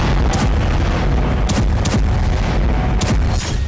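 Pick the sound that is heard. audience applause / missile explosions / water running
missile explosions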